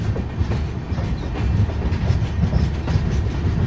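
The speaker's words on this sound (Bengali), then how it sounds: "চাকায় আওয়াজ তুলে ইস্পাতের ট্র্যাক ধরে এগিয়ে চলেছে আমাদের ট্রেন" Sairang Express wheels rumble over steel track on a bridge, a dense, loud clickety-clack with steady rhythmic knocks, heard from inside the moving train without voices.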